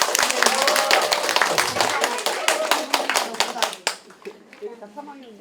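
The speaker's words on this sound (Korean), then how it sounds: "얼마나 긴장될지 저희 좀 편안하게 인사할 수 있도록 한번 박수 한번 보내주세요" An audience at a book talk claps in sharp, distinct hand claps that thin out and stop near the end, as a voice begins speaking quietly afterward.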